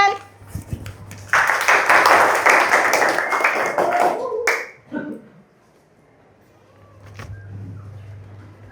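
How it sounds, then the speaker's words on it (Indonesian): A classroom of students clapping together, a burst of brisk, crisp applause lasting about three seconds that stops abruptly, followed by a low hum and quiet room sounds. "Tepuk tangan."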